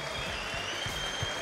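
A crowd at an esports event applauds in a steady, dense wash of clapping at moderate volume, with faint voices mixed in.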